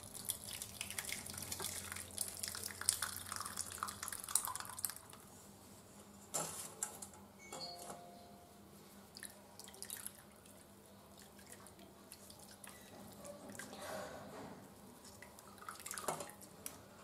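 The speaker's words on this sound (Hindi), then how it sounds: "अब हम इसको छलनी की मदद से छान के अलग कर लेंगे छेना को" Whey drips and trickles through a sieve as chhena is strained for chocolate mawa barfi, with intermittent close splashes and drips of liquid, quiet and irregular, occasional clinks of utensils in a kitchen.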